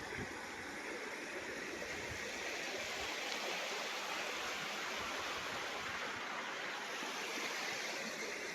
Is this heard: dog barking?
no